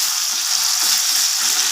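Green chilies sizzle and crackle in hot oil in a pan while being stirred, a steady loud frying hiss throughout with soft stirring scrapes underneath.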